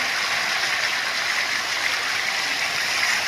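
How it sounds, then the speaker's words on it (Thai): A tiered waterfall in Prachinburi, Thailand, gives a steady, loud broadband rush of falling water that stays constant throughout, with no voices. "น้ำตกนี้ก็เป็น ลดหลั่นมาเป็นชั้นๆแล้วก็มีความลาดเอียงเป็นบ่อ"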